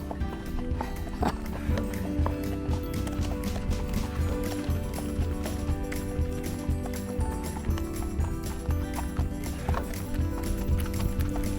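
A horse on a trail ride clops along steadily at a brisk walk, hooves falling in a regular, even rhythm close by for the whole stretch, with no speech over it.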